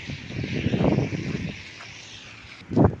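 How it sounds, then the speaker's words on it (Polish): Gusty winter wind buffets the microphone in steady rumbling blasts, with a louder rush near the end and faint rustling underneath. "Strasznie wieje wiatr."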